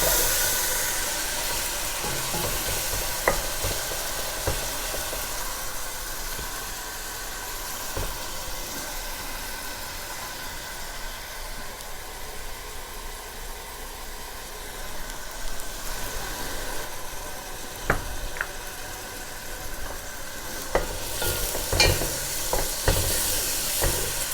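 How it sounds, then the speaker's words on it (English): Pork and onions browning in a pot for a Greek pork stew make a continuous close sizzle, with intermittent scrapes and knocks from a spoon stirring, busier toward the end, and no one speaking. "Now we're giving it a good stir. We need our onions to become smooth as well as the meat browns."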